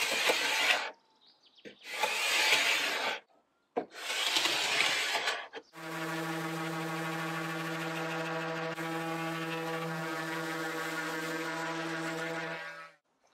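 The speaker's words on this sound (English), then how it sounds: "I scraped off the dirt and then did some sanding" Three rough scraping strokes rasp across old painted pine drawers, followed by the steady, droning whir of a power sander running for several seconds.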